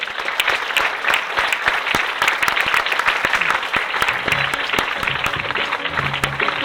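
After a French comedy show, an audience claps dense and steady for several seconds, with sharp individual claps standing out above the mass and a few faint voices underneath.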